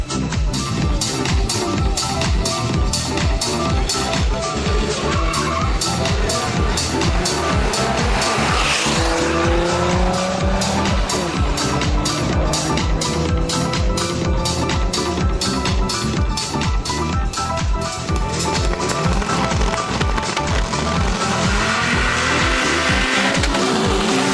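Race cars, among them an Audi, roar loudly and continuously around a circuit in Mostar, with dense rapid engine pulses, shifting engine pitch and tire squeal throughout.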